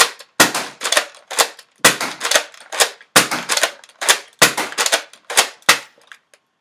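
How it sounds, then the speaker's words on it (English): A Nerf Retaliator blaster dry-firing with no dart loaded, a quick series of about fourteen sharp snapping clicks and clacks from priming and firing, close and loud, in an irregular rhythm with no talking. "that was a dry fire"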